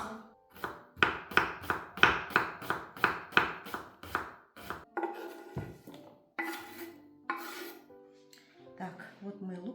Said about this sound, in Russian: вот мы лук тоже наш нарезали, да, полностью. Мелко вот так вот.